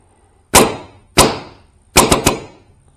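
A Dye DM3 Matrix paintball marker test fires with sharp, loud pops: two single shots, then a quick burst of three, each with a brief ringing tail.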